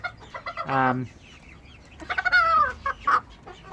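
Hens and chicks cluck and squawk close by on a smallholding in short, uneven bursts, with a longer drawn-out call in the middle and a few quieter clucks around it.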